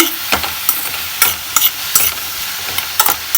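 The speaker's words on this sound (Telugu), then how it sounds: "అవి వేసుకొని కొద్దిగా ఓ రెండు నుంచి మూడు నిమిషాల పాటు అటు ఇటు కదిలించాలి" Mushrooms frying in a pan for a curry, stirred back and forth with a spatula: a steady background sizzle broken by sharp scraping strokes at an irregular rhythm, close up, with no voices.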